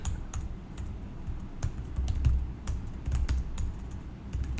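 Close, steady typing on a computer keyboard while writing HTML, with irregular clicky keystrokes and a few louder taps, no talking.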